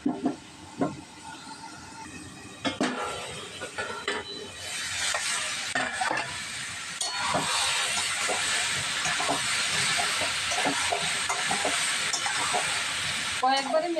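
Fish added to a hot pan of simmering curry on a home kitchen stove: a steady, fairly loud sizzling hiss that swells and then holds. A voice talks briefly over it.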